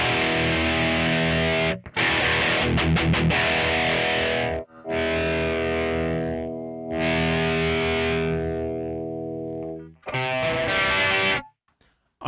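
Electric guitar with both tone knobs on full and the volume at 3, ringing out sustained distorted chords and notes with an effects-laden, chorus-like shimmer, loud and close, in several long strums separated by short breaks.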